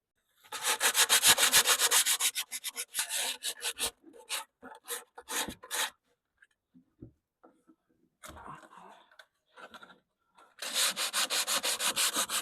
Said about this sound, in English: So I'll give this one final sand